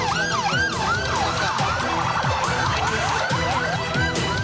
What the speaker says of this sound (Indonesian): Menggunakan iring-iringan 6 ambulans